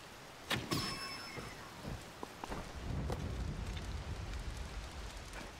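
Rain in the Legend of Penny video game, a soft steady patter with a few sharp knocks and a low rumble building midway, fairly faint throughout.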